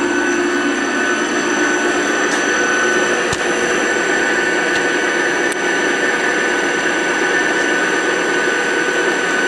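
A bus alternator spins steadily, producing a loud, continuous mechanical whir with a constant high whine and a few faint clicks throughout.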